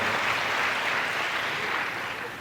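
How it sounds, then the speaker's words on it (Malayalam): Dense, steady applause from an audience at a Manorama Merit Medal event speech, a continuous wash of clapping that holds level and tapers slightly at the end. "ഒരു ക്ലാപ്പ് ചെയ്യാം."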